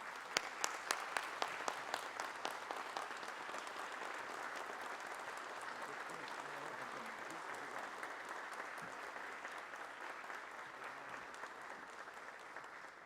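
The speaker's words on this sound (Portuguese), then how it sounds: "Uma salva de palmas a ambos." Formal ceremonial session audience applauding an honored judge and his wife, a sustained, somewhat distant wash of many hands with a few crisp claps at the start.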